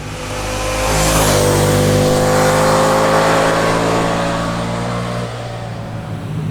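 A 2025 Ducati XDiavel V4 motorcycle ridden in sport mode, its engine rising in pitch as it accelerates hard, then holding a loud, close drone before easing off, with no speech.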